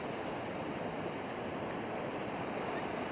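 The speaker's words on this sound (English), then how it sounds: "It's the two currents crashing into each other." Surf on a sandy ocean beach at Pismo where two currents meet, a steady continuous wash of broadband water noise with a faint wind rumble, fairly distant and even throughout, no voices.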